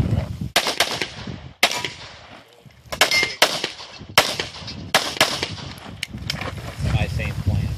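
Rapid pistol shots ring out at an IPSC match, Summer Slam XI, in quick pairs with sharp ringing pings from steel targets mixed in, loud and close, with people talking in between.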